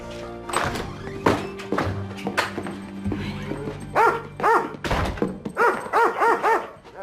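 A dog that dislikes strangers barks in a series of loud, close, sharp woofs, gaining pace toward the end, mixed with thumps and scuffing at the start.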